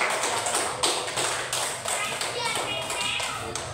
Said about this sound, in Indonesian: Kasih aplaus dulu buat kelompok ini